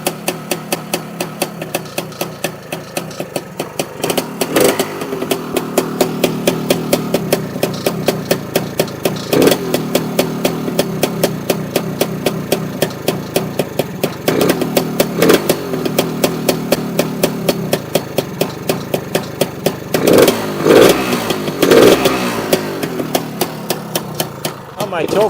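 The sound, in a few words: Lambretta scooter engine running with BGM Pro MZ30 exhaust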